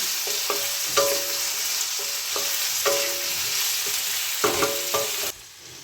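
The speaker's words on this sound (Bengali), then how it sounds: "পেঁয়াজ আর রসুনটা ভাজতে লাগুক" Onion and garlic paste frying in a pan for a cabbage and new potato curry, a steady close sizzle broken by repeated clinks and scrapes of a spoon stirring, with no one speaking, until the noise drops off at the end.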